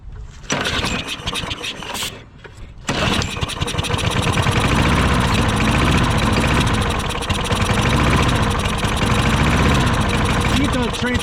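A Craftsman lawn mower engine runs loud and close with a rough, knocking chug, after a brief sputtering start.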